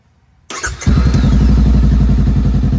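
A Honda Rebel 500 motorcycle with a weak battery cranks with a short, loud burst close by, then catches into a steady, throbbing idle that runs without a break to the end.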